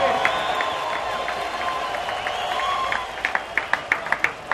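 A baseball stadium crowd at a Milwaukee at Florida game applauds and cheers a scoreboard announcement, a steady wash of distant crowd noise that builds into sharper clapping toward the end.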